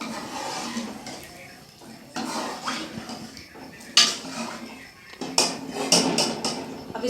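Curry simmering in a kadhai (wok-style pot) is stirred with a metal spoon, giving scattered scraping clinks and knocks against the pot, some sharper strikes near the end, close and moderately loud.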